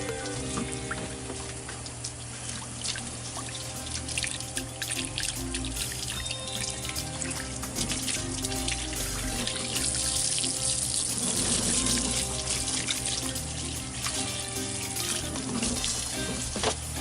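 Tap water runs steadily into a sink while a remora fish is being cleaned, a continuous splashing flow with a steady tonal hum underneath and no talking.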